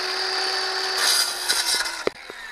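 Plastic underground sprinkler pipe being sawn through, a steady close rasping stroke that ends in a few sharp clicks and knocks as the cut breaks through.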